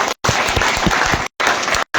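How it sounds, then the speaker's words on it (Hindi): Village crowd applauding at a local sports event, dense clapping broken by two brief cuts to silence. "तालियां विकास के लिए"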